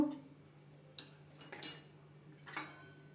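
A spoon stirs loose tea leaves into a pot of boiling water with ginger for tea, giving a few faint, sparse metallic clinks and scrapes against a quiet, low steady hum.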